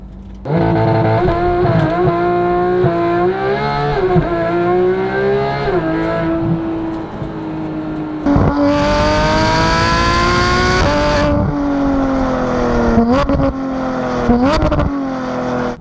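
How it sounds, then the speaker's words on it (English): A loud Porsche GT3 flat-six engine with aftermarket exhaust revs and pulls hard through the gears, rising and dropping in pitch with a raspy, throaty exhaust note close by. "let you listen to this incredible sounding flat six"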